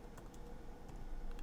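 A command being typed on a computer keyboard during a server install, with a quick, steady run of close key clicks and no voice over them.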